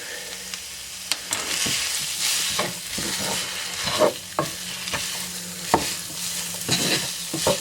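Mushrooms and onions frying in a pan, a steady close sizzle broken by irregular scrapes and taps of a utensil stirring, with no voices.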